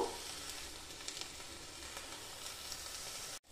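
Hilsa roe paturi wrapped in gourd leaves sizzles steadily in mustard oil in a pan, a close, even frying hiss with faint crackles that cuts off abruptly at the end.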